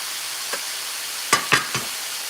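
Sausage pieces and ground beef frying in a pan, a steady hiss of sizzling with a few short scraping stirs near the end, close and fairly loud, no talk.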